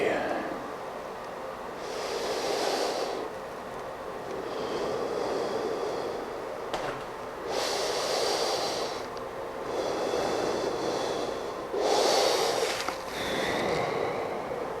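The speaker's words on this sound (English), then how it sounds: "Breathe into your belly." Deep belly breaths during a yoga session for endurance athletes: slow, airy inhales and exhales repeat at an even pace every couple of seconds, close and clear.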